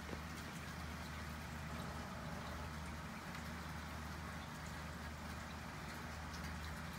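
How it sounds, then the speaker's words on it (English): Light rain falls during a weakened thunderstorm with little wind, a soft, even patter of drops hissing steadily on surfaces nearby, continuous and unbroken throughout with no voices. "It's barely raining."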